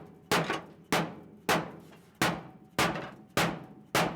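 A steel floor pan being shaped with a hammer, seven sharp metallic blows at a steady pace of about one every half second, each ringing briefly before the next strike, close and loud with no talk.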